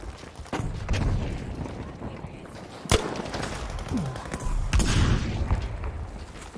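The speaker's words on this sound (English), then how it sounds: "We'll be seeing some rocket grenades being used." Battlefield V combat on the Arras map produces rocket grenade blasts and gunfire: sharp cracks and heavy booms over a continuous rumble of distant fighting.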